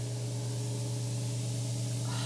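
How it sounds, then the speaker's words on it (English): Turtle-shaped Jelly Bomb bath bomb fizzing in a tub of water, a continuous soft hiss over a steady low hum that lasts throughout, with no talking. "Just gonna follow him around the tub a little bit as he fizzes out."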